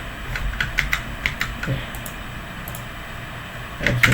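Keys clatter on a computer keyboard in short irregular bursts of clicks with pauses between them, close and clear, with a final quick flurry of typing at the end.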